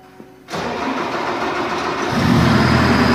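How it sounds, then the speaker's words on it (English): A 2014 JCB 225T Eco diesel engine cranks briefly and fires, settling into a loud, steady idle that rises slightly in pitch and level after a couple of seconds, close by with no talking. "there you heard the JCB diesel crank up and fire right up"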